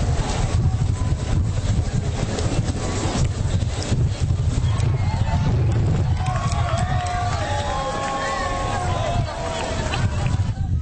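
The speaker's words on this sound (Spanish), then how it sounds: "Decenas de lanchas navegaron las aguas del Papaloapan frente a Tlacotalpan." Dozens of motorboats cruise the Papaloapan river in front of Tlacotalpan during a bull festival, a steady engine rumble with wind noise and whining motor tones, under a voice speaking throughout.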